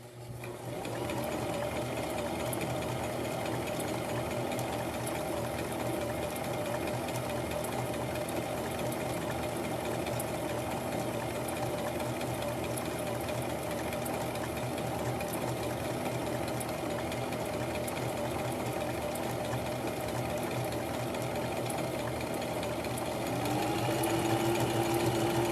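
Sewing machine stitching a fabric headband, a steady continuous motor whir with the needle's fast rhythmic clatter running nearly unbroken throughout, close and clear with no talk.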